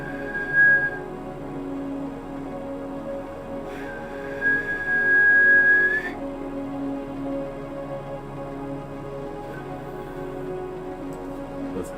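Short whistled tones from a person indoors, one brief note near the start and a longer sustained whistle in the middle, thin and fairly quiet over a steady background hum.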